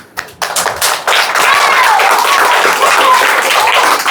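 A group at an Odissi dance workshop breaks into loud, close clapping after a few scattered claps, then keeps up a steady burst of applause with a voice faintly underneath.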